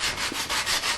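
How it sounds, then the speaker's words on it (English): Hand sanding of a shellac and dye finish on a poplar side table, a close, soft rhythmic rasp of repeated back-and-forth strokes with no voices. "it becomes easier to sand through the finish in those areas"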